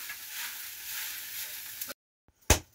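Local chicken sizzling in a pan while cooking, a steady frying hiss for about two seconds, then a short pause and a brief louder scrape or clatter of stirring.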